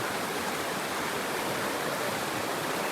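A river flows along a trekking route in Baduy, heard as a dense, steady, close rushing wash of water with no breaks and no talk.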